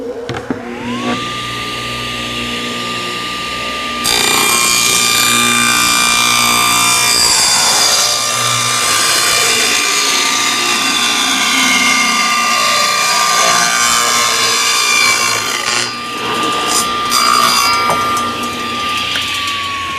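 A power saw cuts through a piece of 1/4-inch plywood during a Pac-Man restoration: a motor whine spins up, then a loud, sustained rasping cut runs for most of the stretch before the blade winds down.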